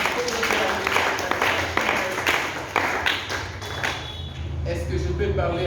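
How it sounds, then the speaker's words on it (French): Church congregation clapping during a sermon, a steady wash of applause with scattered taps and thumps, voices mixed in throughout. "On peut applaudir pour ça au nom de Jésus."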